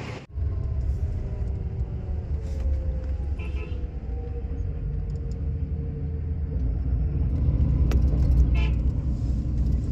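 Interior of a Volvo 9600 coach on an Indian highway run, with a continuous deep engine and road rumble that swells slightly toward the end, and a faint horn toot and light rattles in the cabin.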